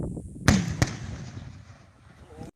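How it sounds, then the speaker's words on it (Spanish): Two sharp explosive bangs from the stages of a two-stage rocket igniting, heard in quick succession about a third of a second apart, followed by a fading rumbling decay. "entonces pueden oír esos dos golpes de la explosión"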